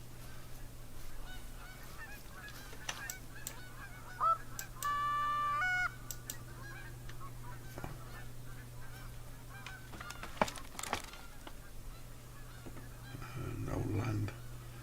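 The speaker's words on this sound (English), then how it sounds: "Oh, I can still hear geese." Geese honk in theHunter: Call of the Wild, with a short run of clear, repeated calls at mid-distance over a steady low ambient hum and scattered game sounds.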